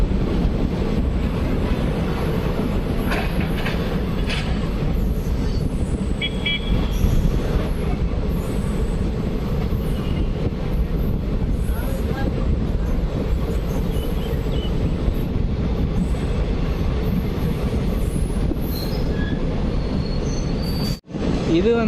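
A train moving from a loop line onto the main line near Bangalore, heard from inside as a steady, loud rumble of wheels and carriage noise that holds unbroken throughout.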